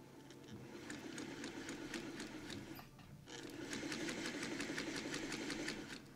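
A foot-pedal sewing machine runs in a fast, steady stitching rhythm, close and moderately loud, dipping briefly near the middle before continuing.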